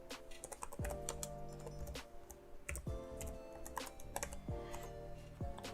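Computer keyboard typing a Linux terminal command, a quick run of close, crisp key clicks with a few louder strokes, steady and unaccompanied by speech.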